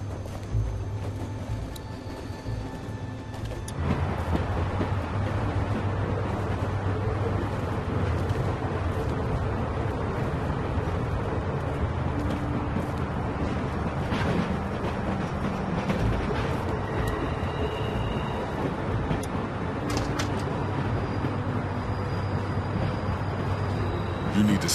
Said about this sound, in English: I'll get this train stopped right quick. Stopping the train.